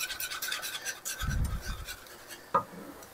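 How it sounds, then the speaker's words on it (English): A whisk scrapes and rasps rhythmically through simmering Alfredo sauce as flour is mixed in, with a close, steady scratching and a brief clink of the whisk against the pan near the end. "I'm just gonna mix it in while I'm whisking."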